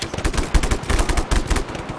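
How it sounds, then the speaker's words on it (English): Rapid automatic gunfire aimed at the player in a video game, a dense rattling string of close, loud shots across two seconds. "Who's shooting at me?"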